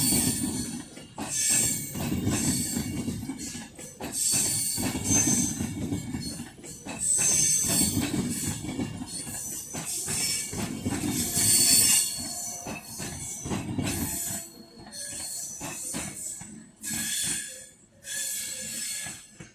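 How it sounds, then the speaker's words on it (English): A Crewe to Daventry freight train rolls past on the West Coast Main Line at Crewe, its wheels squealing in shrill, piercing bursts over a heavy rumble and rhythmic clatter that fades near the end. "There is going to be a Crewe Christie Bridge to Daventry freight train coming in a second."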